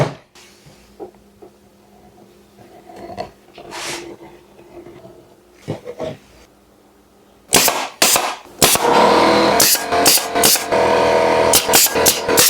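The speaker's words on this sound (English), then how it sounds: "Okay, we'll go ahead and staple the bottom right here." Staple gun driving staples into a wooden five-frame bee nuc box, a few sharp scattered snaps early on, then a rapid series of loud, close percussive shots in the second half.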